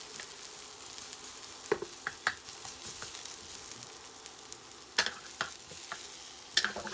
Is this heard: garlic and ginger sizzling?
yes